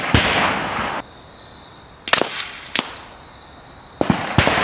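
Sharp reports from a .25 caliber air rifle firing 34 grain slugs, likely a Kalibrgun Cricket or Kral Jumbo, with two quick cracks a little apart and another pair near the end, over steady insect-like outdoor hiss.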